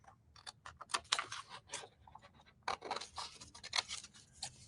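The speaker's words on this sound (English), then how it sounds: "So let me just cut one of these out." Scissors snip through a printed cardstock card at close range, a run of crisp, irregular cuts with short pauses between strokes, no voices.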